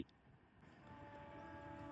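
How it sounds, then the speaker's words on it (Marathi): An Indian Railways train rumbles past at close range near a river, a steady rolling roar of wheels on track with a sustained horn tone, growing slightly louder throughout. "ही आहे आपली भारतीय रेल्वे"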